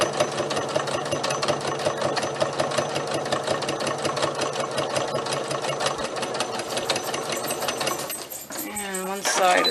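A sewing machine stitches a pencil bag in a fast, steady mechanical whirr heard close, running continuously until it stops near the end, where a person starts speaking.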